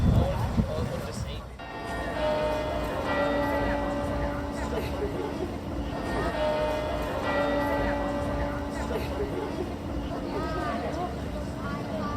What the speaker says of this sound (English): They're ringing the bells for our arrival.